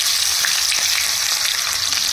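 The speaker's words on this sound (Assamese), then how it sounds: "ইয়াতে দি দিলোঁ পিঁয়াজ" Onions hitting hot oil in a kadai give a loud, steady, close sizzle that holds without a break and has no voices over it.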